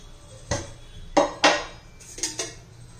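A metal kadhai is set down on a stove and handled before oil goes in, giving several sharp metallic clanks and knocks spaced unevenly over a quiet kitchen background.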